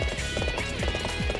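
A horse gallops in Warriors Orochi 3, rapid clip-clop hoofbeats in a steady driving rhythm, close and prominent over busy game music and battle noise.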